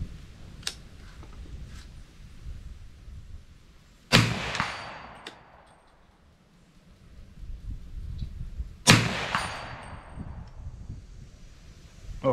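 Two sharp rifle shots at the range while sighting in a scope set to low magnification, each a loud crack with a decaying echo, spaced several seconds apart against quiet outdoor background.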